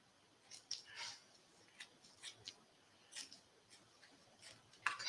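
Scissors snip through felt and deco mesh while a baby dragon wreath is made on an oval board: a string of quiet, close, crisp cuts at an irregular pace, faint against a hushed room with no talking.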